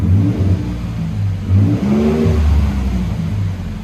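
Ford F-150 2012 with a 3.5L EcoBoost V6 and Borla Pro-XS dual exhaust, revving loudly and close in a few rising and falling pulls with a deep, steady exhaust drone throughout.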